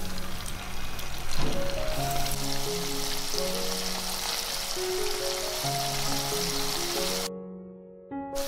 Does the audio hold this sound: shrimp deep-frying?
yes